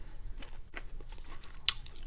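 Someone bites into and chews bone-in Chinese hoisin pork ribs up close: quiet, wet crunching and squishing bites in an irregular rhythm, with no talking.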